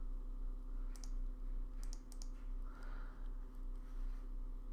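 A few sharp mouse clicks on a Power Mac G5, in small clusters over a steady computer fan hum, fairly quiet with no talking.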